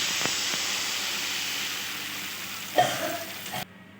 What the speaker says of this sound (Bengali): এবার আমি এতে জল অ্যাড করে দিচ্ছি।